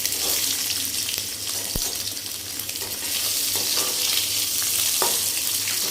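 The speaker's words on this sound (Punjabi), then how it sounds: "ਤੇ ਹੁਣ ਨਾ ਆਪਾਂ ਇਹਦੇ ਵਿੱਚ ਇਹ ਆਲੂ ਕਰ ਲਾਂ ਥੋੜੇ ਜਿਹੇ ਤਲ ਲਾਂਗੇ" Small potatoes for dhaba-style dum aloo frying lightly in hot oil, a steady close sizzle with stirring clatter and a sharp spoon tap partway through, no voices.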